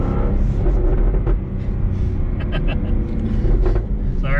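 A 2015 Jaguar F-Type R sports car rumbles close by, its exhaust giving a deep, continuous drone with slight swells in intensity and no talking over it.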